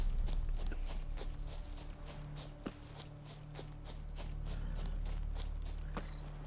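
Horse hooves clip-clopping in a steady walking rhythm in the video game The Witcher 3, heard over a constant low ambient rumble with no talking.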